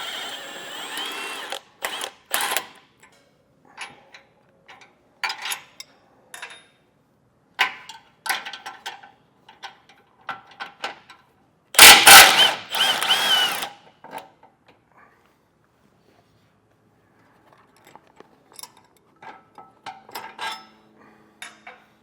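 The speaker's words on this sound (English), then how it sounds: "with an 18 millimeter socket and an 18 millimeter wrench, we'll back off our bolts for our toe loops" An 18 mm socket and wrench back off the tow loop bolts on a 2024 GMC Canyon during a base plate installation. Close, sharp metallic ratcheting clicks come in scattered bursts, with one louder clattering burst midway and long quiet gaps.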